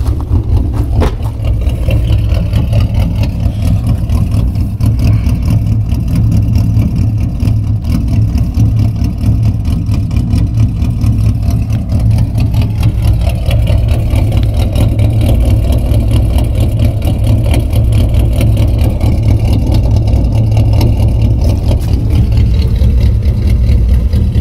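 Cammed 4.0 V6 Ford Mustang with true dual exhaust, cherry bomb glass packs and long tube headers, running loud and close with a deep, choppy rumble that holds steady throughout, with no talking.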